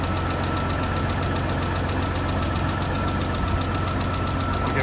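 Mitsubishi 3000GT engine running steadily after its drive belt was retensioned, a close, loud, even idle hum with a faint rhythmic ticking over the top and no talking.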